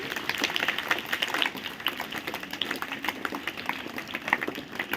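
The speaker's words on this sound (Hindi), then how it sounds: "तो उनके लिए एक बार जोरदार ताली बजा दीजिए" A seated audience at a mindfulness meditation talk claps together in a dense, steady round of applause that holds at a moderate level throughout.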